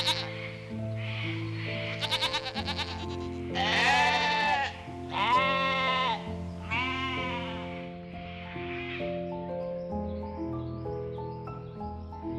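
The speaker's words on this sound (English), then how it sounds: "It's a goat." A goat bleats in several loud, wavering calls over a light musical backing, with quieter notes trailing off toward the end.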